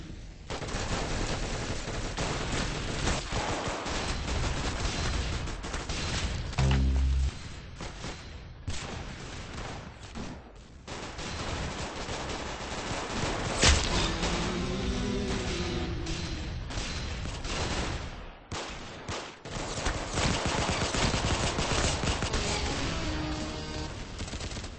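Rapid automatic gunfire in the video game Arsenal: dense, loud bursts of shots crackling almost without pause, with a few short gaps and heavier impacts mixed in.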